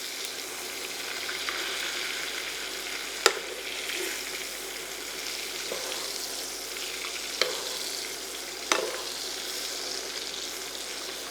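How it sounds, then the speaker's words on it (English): A pork chop sizzles steadily in a pan of oil and caramelized butter with garlic and thyme, a close, constant frying hiss broken by a few sharp spoon taps during basting, with no voices. "Baste it with the oil, the butter that caramelized, and also got flavor from the garlic and the thyme."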